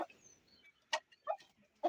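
A hen shut in a coop gives short, scattered clucks, with a few separate calls in quick succession over near silence.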